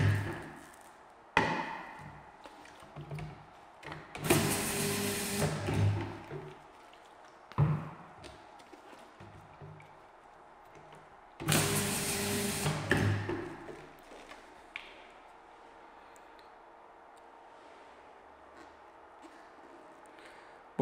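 A Sonkaya SMET225 bottle labeling machine runs after its lever is pressed down, making sharp mechanical clunks and two louder whirring bursts of several seconds each, then quiet.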